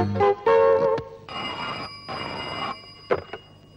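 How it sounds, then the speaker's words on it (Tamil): A telephone rings in a comedy scene, bursts of bright tonal ringing separated by short pauses, loud and close, with no talk over it. "அவனுக்கு போன் பண்றேன்"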